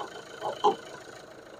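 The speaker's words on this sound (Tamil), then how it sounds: "இப்போ இன்ஜினோட நாய்ஸ் நம்ம கேட்போம்" A low, steady engine idles quietly, with a couple of brief bumps in the rumble and no talking.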